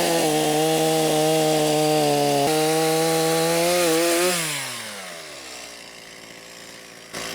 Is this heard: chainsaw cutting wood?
yes